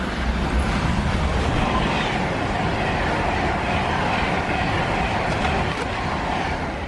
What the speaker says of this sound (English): it's the first train I've seen except for that freight train